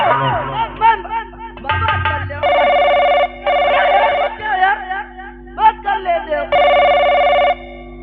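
A telephone rings indoors in a family home, its electronic trill sounding in three loud sustained bursts between pauses, with voices talking and overlapping throughout.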